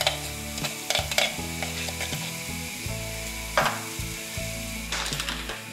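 Beetroot with tomato paste fries in a pan for borscht while being stirred, producing a lively sizzle layered with repeated scraping and clattering of the spoon against the pan, no talking.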